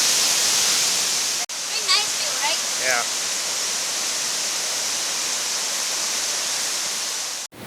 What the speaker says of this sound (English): we are down with the waterfalls